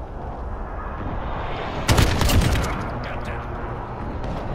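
A loud explosive blast and rumble from an airstrike lands mid-way through a Modern Warfare match, over steady background gunfire and battle noise.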